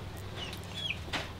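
Chickens cluck softly at a small home with farm animals, a few short, faint clucks and calls over a quiet background within a brief moment.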